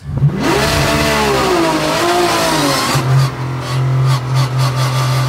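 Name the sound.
Porsche 911 GT3 R race car revving and pulling away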